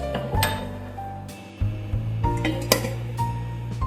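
Metal pot and lid clatter with clinks and knocks as the pot is covered while rice flour khichu cooks, a few close sharp clanks over a low steady hum.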